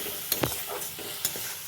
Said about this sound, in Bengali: ভালোভাবে নেড়ে চেড়ে নেওয়া হচ্ছে।